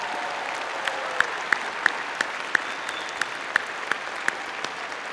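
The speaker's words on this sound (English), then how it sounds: "Let's give these officers, our veteran graduates, and our veterans and their families a round of applause" Scattered applause from a commencement crowd honoring veteran graduates, with a soft continuous clapping wash and several sharper individual claps standing out at a steady, irregular pace.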